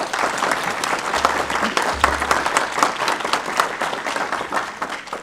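An audience at a county school board meeting gives sustained applause to honor a teacher, many hands clapping evenly in a large room at moderate volume, with low rumble beneath.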